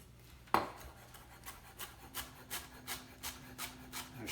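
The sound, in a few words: knife chopping coriander stems on a wooden board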